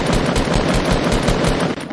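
Automatic gunfire in a shooter video game fires loud, steady bursts at close range, with a brief dip near the end.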